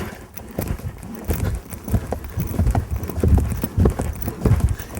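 Hooves clip-clop steadily as a horse works through lengthenings in a riding session, a repeated close rhythmic beat with scattered soft thuds and occasional faint snorting.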